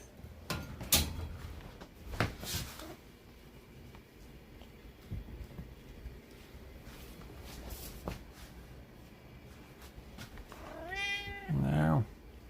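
A house cat meows a few times amid quiet indoor rustles and knocks, ending in a loud, drawn-out close meow with a rising, wavering pitch.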